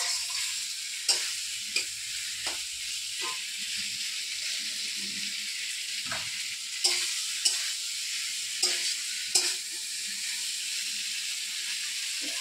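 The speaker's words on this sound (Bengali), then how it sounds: "একটু মশলাটা ভালো করে কষে নেবো, সব সবজিগুলোকে একসঙ্গে ভালো করে" Spice paste and mixed vegetables sauté in a pan with a steady sizzle and hiss, while a utensil scrapes and taps at scattered moments throughout.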